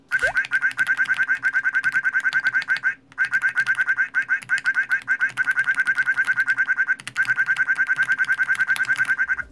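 Rapid, repetitive squeaky quacking tones fire in quick succession from a keyboard whose keys trigger duck sounds, broken by two brief pauses, loud and close.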